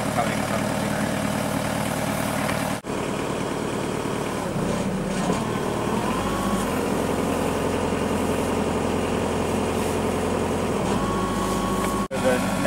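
A generator engine runs steadily nearby at a test site, a constant mechanical drone with slight shifts in pitch and a couple of abrupt dropouts, heard under ongoing talk.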